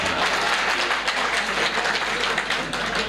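Steady applause from a live audience at a Punjabi poetry recital, a dense continuous wash of clapping that holds at an even level from start to finish with no voices on top.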